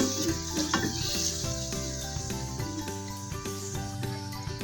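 Pork igado returned to a hot pan sizzles and crackles steadily, a loud continuous hiss over background music, with no talking.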